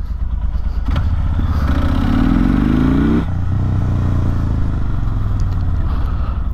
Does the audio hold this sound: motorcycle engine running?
yes